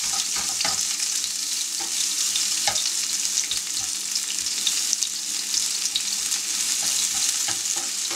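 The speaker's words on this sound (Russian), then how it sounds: "поместим перчик на сковородку" Bell pepper gently softening in a frying pan, not browning, for an Italian arugula salad: a steady, even sizzle close up with small crackles and pops and occasional stirring clicks, and no voices.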